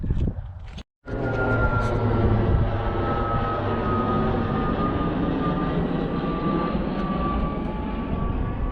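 Tillotson 212 small engine with a 5-inch intake and a 24 mm flat-slide carburetor, starting with a brief cutout, then a loud, close, steady high-revving drone as it accelerates and holds near top speed.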